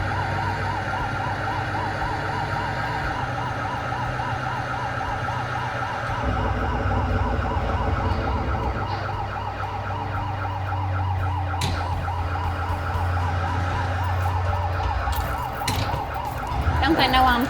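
Fire engine sirens wail continuously in a firefighting driving simulation game, a rapid warbling tone cycling up and down over a low engine rumble, with a horn-like burst near the end.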